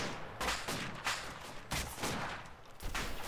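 Gunfire in the military shooter video game ArmA II comes as several sharp bursts of shots, quiet and somewhat distant, separated by short gaps.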